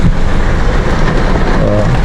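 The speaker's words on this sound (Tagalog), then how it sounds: "Grabe yung bagsak ng ulan." Heavy rain pours down steadily and loudly in a seaside village in Camarines Sur, a dense, continuous hiss with no break.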